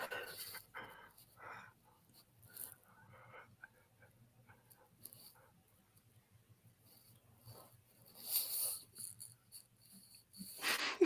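A puppy panting softly and steadily over several seconds, faint and close, with a few sharper noises breaking in near the end.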